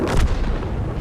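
Single heavy artillery gun shot in the tank combat video game World of Tanks, a deep booming blast with a rumbling tail, loud and close, alone without talk.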